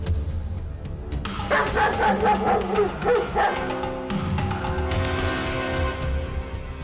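A dog barks and yips repeatedly at close range, a burst of insistent calls over a rumbling background, fading into a lingering tonal hum.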